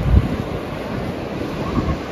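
Sea waves wash onto the beach at Puri in a steady, loud, broadband rush, with wind buffeting the microphone and no talking.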